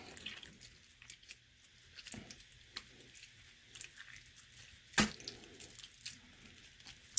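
Wet clay squelches and smacks softly as it is kneaded by hand with added water, scattered close, quiet squishes and taps with one sharper slap, no talking.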